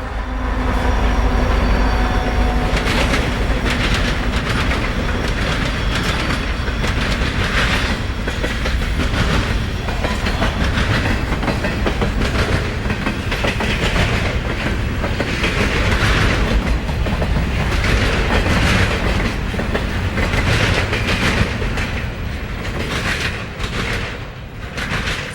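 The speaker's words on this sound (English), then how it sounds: "an eastbound TOFC crosses the diamond." An eastbound Santa Fe freight train carrying trailers on flatcars (TOFC) crosses a railroad diamond, giving a loud, close, continuous rumble with steady clickety-clack from the wheels for the whole stretch, with no voices.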